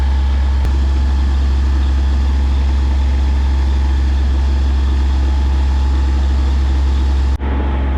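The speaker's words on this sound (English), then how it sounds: "Engine's not even warm." A sailboat's inboard engine, still cold, running steadily on cold fresh water while under way, a loud constant low drone with a rumbling hum that holds for the whole stretch before cutting briefly near the end.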